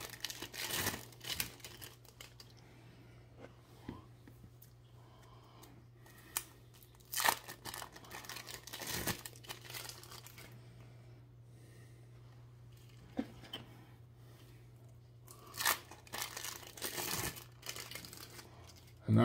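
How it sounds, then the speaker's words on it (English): Plastic wrappers are peeled off three slices of American cheese in short bursts of crinkling and tearing, close up, separated by quiet pauses over a low steady hum. "Now, I have 3 slices of American cheese, which I will open here."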